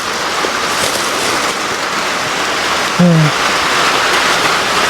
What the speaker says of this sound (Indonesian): di sebelah sana tuh hujannya udah gede banget, ya.